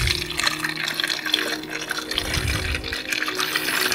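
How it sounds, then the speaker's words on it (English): Liquid pouring through a silicone funnel into a bottle, a continuous close trickling and gurgling flow with no talking. "we're just gonna use my handy dandy silicone funnel to pour this into the"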